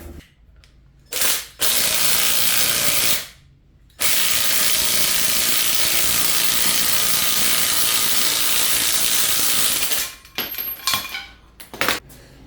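A puller grinds a bonded rubber pulley off a high-mileage 300,000-mile GM 5.3 engine, mostly one long, loud, steady harsh mechanical whir with short bursts at the start and a few close metallic clanks at the end.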